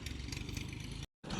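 Tractor engine running in a millet field, a continuous mid-pitched rumble with a rhythmic chug that cuts out abruptly for a moment, then resumes.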